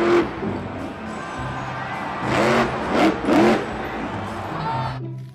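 A toy monster truck revs in several rising, whining bursts over a faint crowd-like background, moderately loud and close, with short pauses between the revs.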